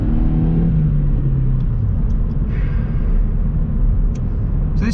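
A Suzuki Swift Sport accelerating, its engine rumbling low and close with a short rising rev that then settles into a steady drone, plus a few faint high clicks near the end.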